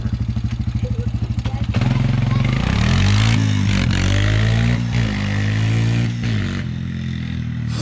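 A 2012 Honda Recon 250 ATV engine idles with a fast, even chug, then rises to a steady, louder drone that dips and swells near the end. A voice talks briefly over the engine.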